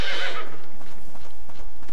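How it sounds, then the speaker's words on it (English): A horse neighs loudly at the start in the medieval survival game Life is Feudal, a bright whinny fading into softer farm-animal ambience and faint hoof clatter. "You will hear chickens, you will hear cows, you will hear horses."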